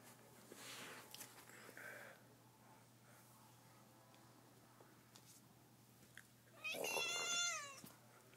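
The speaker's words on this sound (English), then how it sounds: "This is my cat, Ginger." A cat meows a few times nearby, short calls early on and a louder, drawn-out meow near the end, with quiet room noise between.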